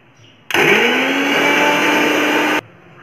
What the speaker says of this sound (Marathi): इथे आधी पाण्याचा वापर न करता मी इथे मिक्सरला व्यवस्थित फिरवून घेणार आहे